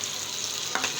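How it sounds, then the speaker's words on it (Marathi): Tomatoes fry in hot oil in a pan, a steady soft sizzle for a second with a faint scrape of stirring near the end. "टमाटर यालाही छान तेलामध्ये फ्राय होऊ दे."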